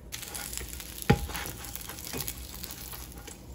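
Frozen food fries in a pan for dinner with a soft, steady sizzle and patter, broken by a brief clatter of utensil against pan near the start.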